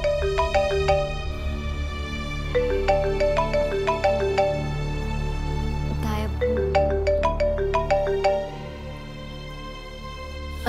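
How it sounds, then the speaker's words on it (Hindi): A phone rings in a kitchen, a repeating electronic melodic ringtone with bright chiming tones in steady bursts, moderately loud over a low background hum, with no one talking. "किचन किसका फोन आ रहा है?"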